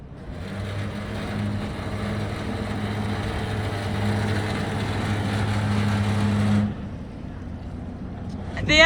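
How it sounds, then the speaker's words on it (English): A 112ft sailing schooner's engine runs steadily with a low, even drone and constant hum, which cuts off near the end and leaves quieter background noise. "The engine's back on now."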